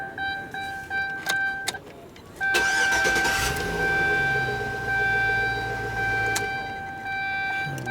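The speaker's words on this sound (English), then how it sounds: "And this thing just keeps cranking, cranking, cranking" A car engine cranks repeatedly, powered by a JF.EGWO 6000A jump starter, with steady churning turnover after a few short bursts and a faint whine, close and fairly loud.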